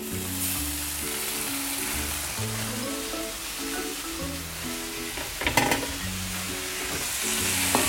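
Boiled vermicelli is stirred into spices in a hot pan for savory namkeen sewai, giving a steady sizzle with scraping stir strokes and a brief louder clatter near the end, over background music.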